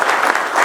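Studio audience at an evening televised talk show breaks into continuous, dense applause, loud and close, filling the whole moment without voices.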